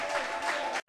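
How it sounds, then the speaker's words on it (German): Congregation clapping during a church service, a dense steady patter with some crowd noise mixed in, cutting off briefly near the end before resuming. "Dass du noch mehr klatscht als das."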